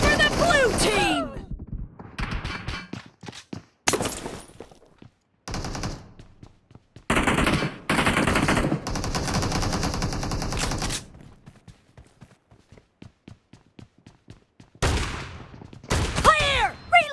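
Repeated bursts of shotgun fire in the mobile game PUBG Mobile, with an M1014 shotgun: sharp, loud blasts spaced irregularly with short quiet gaps, mixed with game announcer voice lines and some talk.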